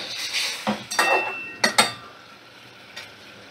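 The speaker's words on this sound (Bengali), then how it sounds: "5 মিনিটের মতো নাড়াচাড়া করে নেব।" A spoon stirs ripe mango in a pan, giving a few scattered metallic scrapes and clinks with quiet pauses between them. The sound is close and moderately soft.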